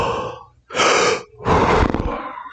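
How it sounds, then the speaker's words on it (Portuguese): A Shih Tzu yawns in two drawn-out breathy bursts separated by a short pause, loud and close with no talk over it. "Primeiro bocejo que ele deu em muito tempo."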